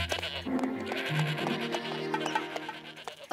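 A herd of cartoon goats bleating on their way to a mountain stream to drink. Several overlapping wavering bleats ring out close and fairly loud, one after another, without pause.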